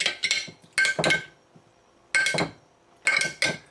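Marinated London broil stirred in a pan, heard as bright metallic clinks and scrapes of a utensil against the pan in separate close clusters of quick taps, with quiet gaps between them.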